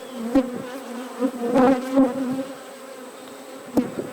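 A dense, steady buzz of many honey bees droning close by at an open hive, with a few louder swells as individual insects pass near.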